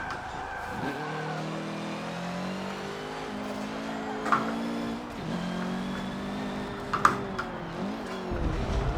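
A race car laps the Nordschleife in Forza Motorsport 7, its engine droning and rising through the gears, with shifts, brief tire squeals and a couple of sharp clunks, loud and continuous.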